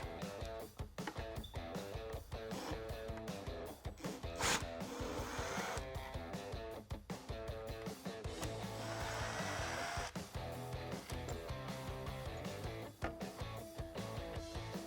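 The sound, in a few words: removing the screws of a Jeep Wrangler JK taillight housing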